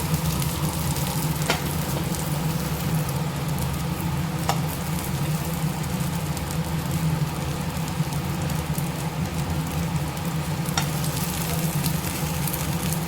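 Raw banana pieces fry in a pan of oil, giving a steady, even sizzle with occasional small crackles and a low background hum, with no voices.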